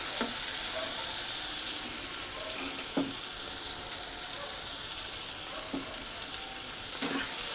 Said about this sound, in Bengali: ভালো করে নাড়াচাড়া করে এর মধ্যে আমি গাজরটা দিয়ে দেবো